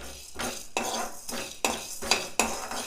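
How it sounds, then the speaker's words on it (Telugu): Coriander and cumin seeds dry-roasting in a pan, heard as a series of sharp metallic scrapes and clinks of a spoon stirring against the pan, roughly five strokes in under three seconds, close and fairly quiet with no voices. "ఇగో ధనియాలు, జీలకర్ర దోరగా ఇగో కలర్ వచ్చేటట్టు ఇట్లా ఎర్రగా కొంచెం కలర్ రావాలి"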